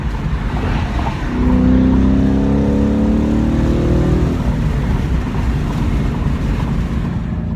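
Ford Mustang (2015-18) fitted with a Borla ATAK exhaust, heard from inside the cabin in fifth gear: a steady low drone with a rising engine tone partway through, under heavy wind noise from open windows.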